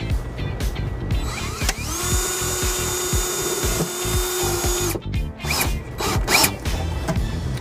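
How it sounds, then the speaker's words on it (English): Power drill driving a screw to secure a ground wire during a trailer wiring installation on a 2018 Honda HR-V, a steady close whine lasting about three seconds, followed by clicks and rattling handling noises. "So I have my drill in place and we're ready to secure this ground wire."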